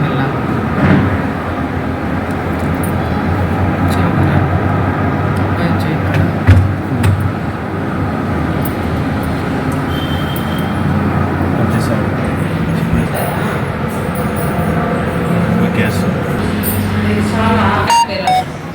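A car on the road at a driving school, its engine giving a steady low rumble with small changes as the driver moves from third to fourth gear, while a voice talks over it throughout.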